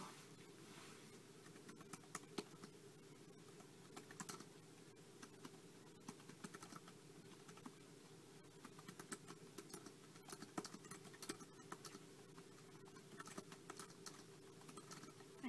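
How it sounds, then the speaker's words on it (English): Quiet, irregular keyboard clicks tap away over a steady low hum, faint and continuous. "hate typing with gloves."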